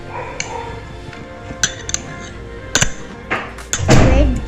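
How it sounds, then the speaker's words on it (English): A fork chops mulberries in a dish, giving scattered sharp clinks and taps against the dish, with a louder scraping, mashing burst near the end, close up and with no talk. "I'm going to chop these mulberries with a fork"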